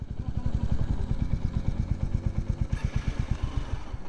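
A motorcycle engine throbs close by on a Kolkata-to-Purulia bike trip, its steady rapid low pulsing running loud and continuous, with a brief rise in higher mechanical noise near the end.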